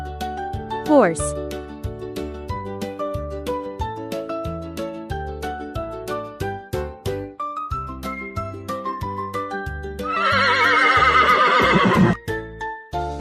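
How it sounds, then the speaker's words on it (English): Near the end, a horse whinnies once, loud and drawn out, after a stretch of upbeat background music. "Horse."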